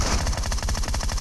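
Rapid automatic gunfire from PUBG Metro Royale, a fast, steady string of close, loud shots with no pauses across the short burst.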